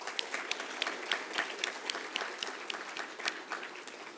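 Audience at a school leaving ceremony applauds the grade 12 visual arts students, with steady, moderately distant clapping from a crowd that keeps going evenly throughout.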